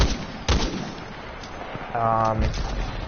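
Gunfire from a two-shot weapon in the video game Titanfall 2: a sharp burst of shots near the start, then a brief tonal electronic game sound, with a low steady background.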